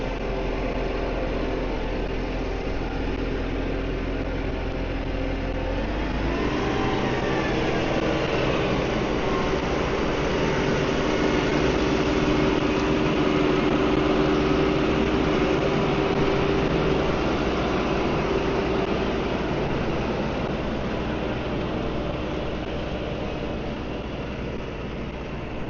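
A low, steady tractor engine rumble idles continuously, with a faint rising tone and a change in pitch early on, close by and without speech.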